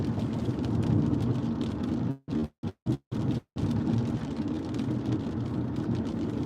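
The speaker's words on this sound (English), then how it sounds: "A little bit of rain coming down." Steady rain falls during a storm in Las Vegas as a dense, even hiss, broken by a few brief dropouts near the middle. No distinct thunder rumble stands out.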